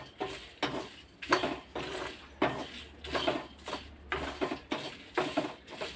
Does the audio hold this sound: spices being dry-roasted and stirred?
yes